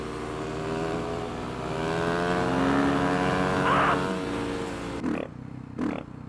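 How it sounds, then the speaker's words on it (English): A motorcycle's exhaust drones steadily close by while the bike is being ridden, with a rising-and-falling engine note before it drops off sharply near the end. "cool to be on a bike that I can hear the exhaust"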